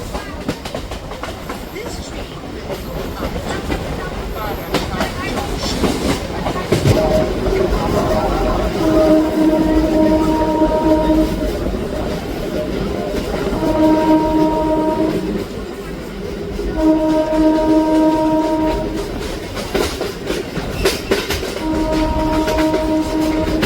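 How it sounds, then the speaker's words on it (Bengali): A Majherhat–Barasat local train rolls into Patipukur station, steady rattling and clatter of the carriages under repeated horn blasts, loud and close throughout. "ট্রেন আমাদের ঢুকলো হলো পাতিপুকুর স্টেশন"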